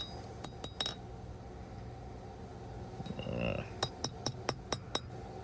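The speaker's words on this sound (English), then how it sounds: "Couple of taps on the horn." A hammer taps a forged knife blade on the horn of a new anvil, a few early ringing strikes, a pause, then a quick series of about seven bright metallic clinks close by.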